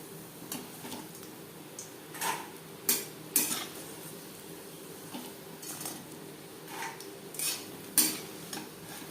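Crispy fried fish roe fritters are lifted into a bowl, giving light scattered clinks and scrapes of utensil against cookware, a few sharper taps standing out over a quiet kitchen background with no talking.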